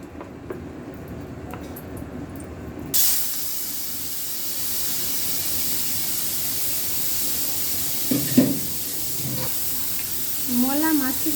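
Prawns dropped into hot oil in a pan burst into a loud, steady hiss and sizzle that starts abruptly and carries on, close by, with brief voices and other kitchen noises partway through.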